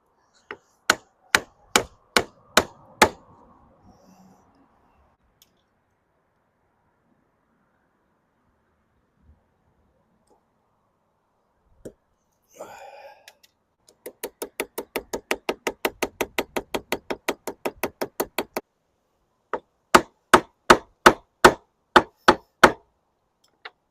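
Hammer striking rivets on leather armor buckles in several sharp, evenly spaced series of taps, one fast run of light blows mid-way and a few isolated knocks between quiet gaps.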